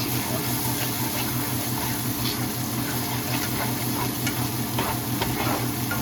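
Dijon mustard being stirred into a cooking mixture gives a continuous wet stirring and gentle sizzle with occasional soft scrapes, steady and fairly close, no voices.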